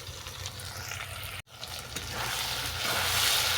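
Vegetables frying with chopped tomato, pineapple and mint for pineapple pilaf, a steady close sizzle that briefly cuts out for an instant before swelling louder and brighter toward the end.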